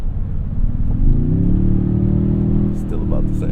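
A 2024 Toyota Tundra TRD Pro in four-wheel-drive high and sport mode accelerates with a steady, loud engine drone whose pitch climbs and then holds, under talk from inside the cab.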